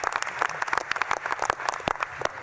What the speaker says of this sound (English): how about another round of applause for Secretary Ross and Secretary Chow